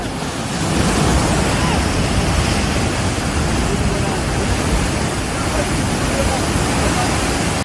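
Kaleshwaram project water from the Lakshmipur pumps at Ramadugu surging full into canals, a loud continuous roar of rushing water, broadband and unbroken like surf, with wind buffeting the microphone.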